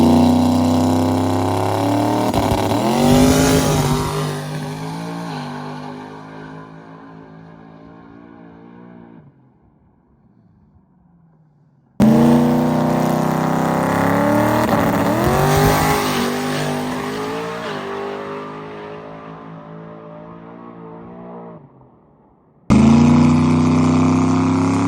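A drag race car roars down the strip on repeated passes, each a loud, rising engine howl through the gears that fades into the distance, with gaps of near silence between runs.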